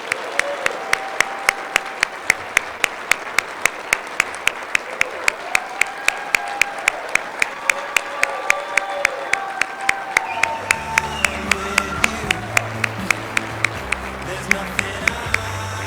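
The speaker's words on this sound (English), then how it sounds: "let's give our 2019 Hall of Fame class one more round of applause" Audience applause fills a Softball Hall of Fame induction banquet, dense steady clapping throughout, with a low rumble of crowd noise rising near the end.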